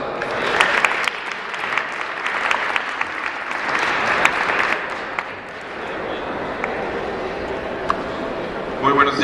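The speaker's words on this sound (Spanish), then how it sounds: "lo recibimos con un fuerte aplauso" A seated audience gives sustained applause welcoming a speaker to a Holocaust remembrance talk, dense clapping that swells and then thins out over several seconds, with a voice speaking at the end.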